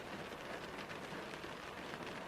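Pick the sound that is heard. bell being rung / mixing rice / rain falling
rain falling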